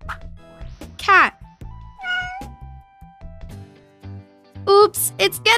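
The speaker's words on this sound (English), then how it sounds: "Cat!" A cat meows several times, close and clear, with a high rising cry near the start and a quick burst of meows at the end.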